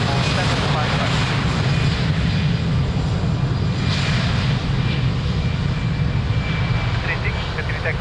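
Jet airliner engines roar steadily at Lisbon Airport's runway, a loud continuous broadband rumble heard at some distance, with faint radio chatter mixed underneath.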